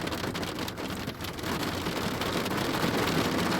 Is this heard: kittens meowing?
no